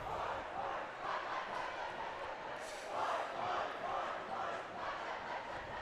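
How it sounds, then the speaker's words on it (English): A rowdy crowd roars steadily at a varsity girls' high school basketball rivalry game between Mead and Frederick. The noise is a continuous wash of shouting and cheering, with voices talking over it. "the Rowdy crowd's definitely livid over there"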